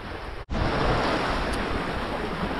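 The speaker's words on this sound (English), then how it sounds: "feels like the wind is picking up a bit more." Wind and waves rush steadily around a sailboat running off Mooloolaba on open blue water, a loud continuous surf-and-wind roar with one brief dropout early on.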